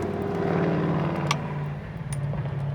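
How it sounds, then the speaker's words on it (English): A steady low rumble of passing road traffic, engines droning continuously at moderate distance with faint clinks in the foreground. "as you can hear all the traffic going by"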